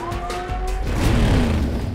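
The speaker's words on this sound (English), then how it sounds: "Screamy sirens." A police siren wails with falling and rising tones over passing traffic noise, loud and close for a couple of seconds.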